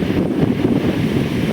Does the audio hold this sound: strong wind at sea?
yes